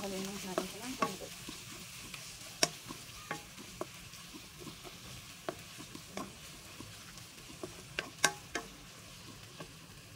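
Mussels cooking in a pan for sisig are stirred, giving a steady soft sizzle with repeated scraping clicks and sharper knocks of the utensil, close by and without talk.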